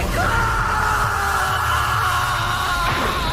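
A woman screams loudly and continuously in an Indonesian horror film, a sustained high shriek over a tense, dense background score.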